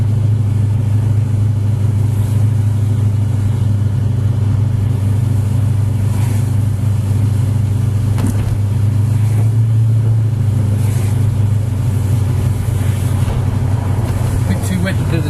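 Exhaust of a 1986 Jaguar fitted with a 350 small-block Chevy V8, a steady low idling rumble that holds close and even throughout, not harsh, with people talking over it.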